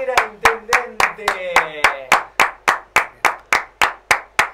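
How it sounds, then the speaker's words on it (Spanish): One pair of hands claps in a steady, even rhythm at close range, about fifteen sharp claps in a row for Leandro Salera, a mayor, while a voice sings or calls out briefly over the first few. "El aplauso Pícaro. Para Leandro Zarera, intendente."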